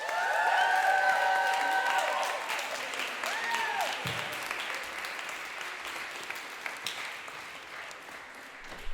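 An audience applauds and cheers a performer at a Dyke's Docs reading at Fabrica, loud at first and gradually thinning out, with some crowd voices mixed in.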